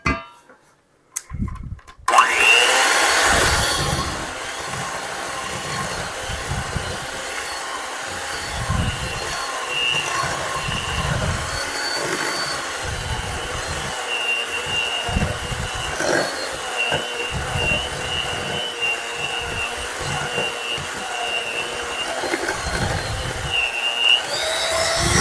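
Electric mixer whirring steadily through carrot cake batter, a loud continuous motor drone that starts abruptly after a brief quiet moment and runs unbroken to the end with a slightly fluctuating pitch.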